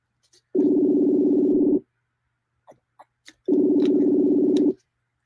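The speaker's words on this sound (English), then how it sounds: "Can you guys hear that ringing?" Ringback tone of an outgoing phone call: two long, steady buzzing rings separated by a pause, with a few faint clicks in between and no voices.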